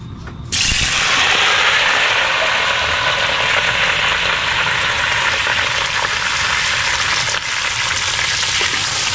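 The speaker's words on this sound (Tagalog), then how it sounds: "gigisahin lang po natin to sa mantika" Freshly caught catch dropped into hot cooking oil, erupting into a loud, steady, close sizzle that fills the space and continues unbroken until the end, with no talking.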